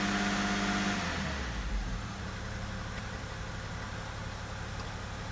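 A BMW E70 with an M57 diesel engine runs at a raised 2000 RPM after a high pressure fuel pump rebuild, producing a steady mechanical drone that shifts down slightly early on, then settles into an even running hum.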